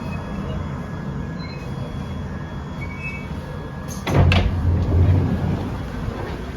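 Steady low rumble of a moving London Underground 1973 Stock train on the Piccadilly line with a whining tone, then a couple of sharp clanks and a louder surge of rolling noise near the end.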